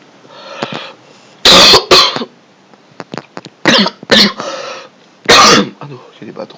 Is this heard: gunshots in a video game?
no